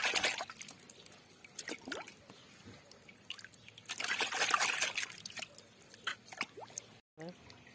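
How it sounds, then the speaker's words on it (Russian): Tap water runs and trickles as crucian carp are rinsed by hand, with splashing and dribbling bursts that swell midway, then a brief cut near the end. "Рыбу прополощу в 2 водах"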